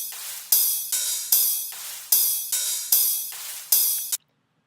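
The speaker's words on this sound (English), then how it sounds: "Then a little hi-hat loop I made with stock Ableton samples" Hi-hat loop built from stock Ableton samples: bright, hissy open-hat strikes in a syncopated pattern, each decaying briefly before the next, about six hits then cutting to silence, played alone without talk.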